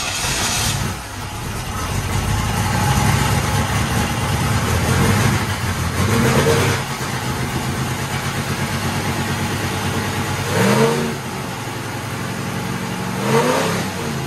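A 350 Chevy V8 in a Monte Carlo hot rod idles loudly nearby, with a lumpy, rumbling beat, then revs up several times and settles back each time.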